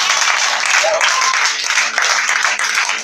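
A church congregation claps and cheers in a dense, continuous wash of applause, loud and close, with voices calling out throughout.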